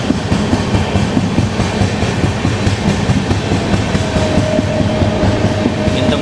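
AC double decker train on the Tirupati–Visakhapatnam run passing through Nidadavolu junction without stopping: steady loud rolling rumble with faint rhythmic clickety-clack of the wheels, and a thin wheel squeal rising late on.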